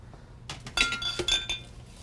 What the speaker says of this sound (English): Just piling up all my dirty dishes there.